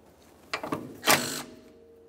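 A wrench ratchets on 14 mm strut mounting nuts on a 1994-1997 Honda Accord: a few short clicking bursts, close and fairly quiet, followed by a brief metallic rasp.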